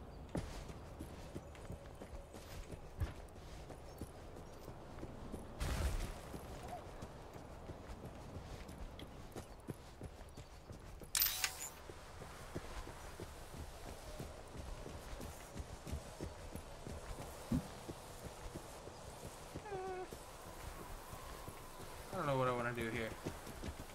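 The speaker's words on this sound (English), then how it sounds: "I can hear footsteps." Footsteps in the game Overwatch, a rapid clip-clop patter of steps running throughout at moderate level, with occasional louder bursts and effects and ongoing talk over them.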